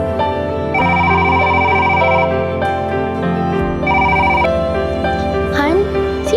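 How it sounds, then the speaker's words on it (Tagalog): A cellphone rings in a repeating electronic melody of bright tones, played loud and close over a quiet background in a radio drama scene. "ay isang tunog ng cellphone ang nagpagising sa amin ni Ivan."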